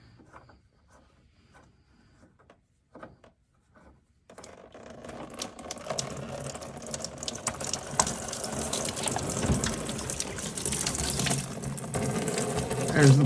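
Motor oil draining from the drain plug of a 2014 Dodge Journey 3.6 AWD SXT into a drop pan: a quiet start, then a steady rushing pour of liquid that swells and continues to the end.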